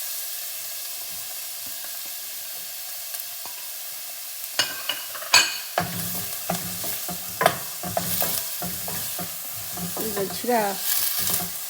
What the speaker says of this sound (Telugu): ఆనియన్స్ని ఇలా ముక్కలు వేసుకొని వేసేసుకుంటాను.